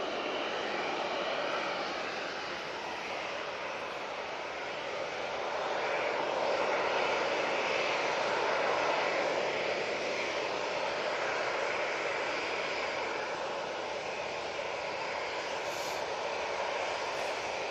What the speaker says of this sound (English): RyanAir to Prague using their 737 MAX 8